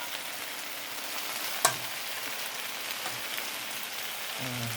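Noodles and bean sprouts being stir-fried with a spatula for old-style red mee, a soft continuous sizzle with a sharp metallic clink near the middle and scraping at the end.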